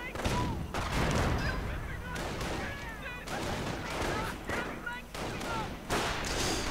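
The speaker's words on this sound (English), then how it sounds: "Sniper coming under pretty heavy fire as the Fultz Gunner spot him." Heavy gunfire from a real-time strategy battle as a sniper comes under fire, dense overlapping shots and bursts throughout, with a commentator talking continuously over it.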